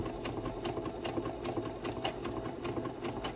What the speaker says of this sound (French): Je viens ensuite rabattre et faire un point zigzag sur le dessus comme une surpiqûre.